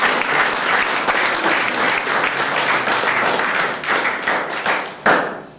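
An audience at a French-language award presentation claps loudly and steadily, with individual hand claps audible, fading slightly before a final louder burst and then trailing off.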